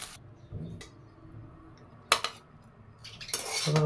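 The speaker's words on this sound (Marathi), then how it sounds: "मी गॅस बंद करून घेते आणि प्लेटमध्ये सर्व करून घेऊया" Onion poha served onto a plate, with a few sharp clinks and scrapes of a spoon against dishes, close and intermittent with quiet gaps, no talk.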